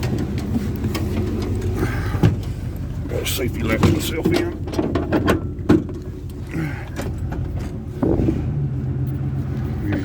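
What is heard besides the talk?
truck engine running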